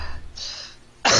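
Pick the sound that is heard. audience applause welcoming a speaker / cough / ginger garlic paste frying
cough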